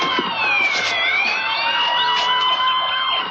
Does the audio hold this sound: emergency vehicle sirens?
yes